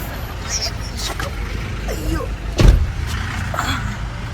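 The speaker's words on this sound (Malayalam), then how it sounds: "നമ്മൾ രാവിലെ പോയ അതേ കാറിലാണ് നമ്മൾ തിരിച്ച് താഴോട്ട് നമ്മുടെ താഴത്തെ ഹോട്ടലിലോട്ട് പോകുന്നത്." A car heading downhill from Tirupati toward a hotel gives a continuous engine and road rumble with a louder thump midway, while people talk inside the cabin.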